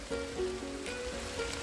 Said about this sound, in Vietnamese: Ây da, mưa quá. Mưa quá mưa.